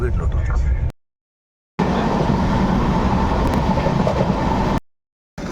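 A train rumbles and clatters loudly and close at Aluva railway station, the heavy rolling noise broken by two short gaps of silence.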